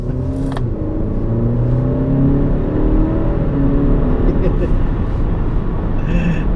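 A 2019 Alfa Romeo Stelvio SUV accelerating hard on the road, heard from inside as a steady rising engine drone with gear-like pitch sweeps, loud and continuous, with a brief voice near the start and end.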